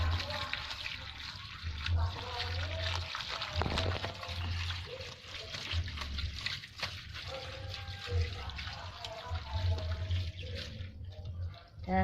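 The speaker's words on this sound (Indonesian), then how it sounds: "pakai air mengalir lagi" Tap water runs steadily with a soft splashing rinse over bitter melon being prepared for frying, fairly quiet, with occasional low handling noises underneath.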